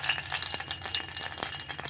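A curry leaf dropped into hot oil sizzles and crackles continuously in a pan, loud and close with bright spitting pops throughout.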